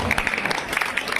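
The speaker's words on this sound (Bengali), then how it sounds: "জোরে হাততালি।" Loud applause from a crowd at a boxing championship event, dense clapping filling the short moment without a break.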